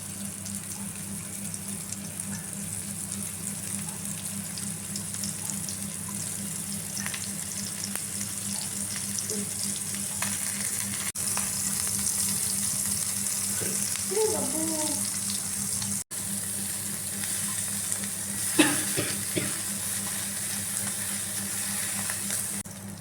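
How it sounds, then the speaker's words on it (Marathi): Tarli sardines sizzle and fry in very hot oil, a steady crackling hiss that runs continuously, with a few faint clinks and small pops along the way. "छान गरम झाल्यावर मासे हळूहळू सगळे सोडायचे। सगळे मासे सोडत आहे।"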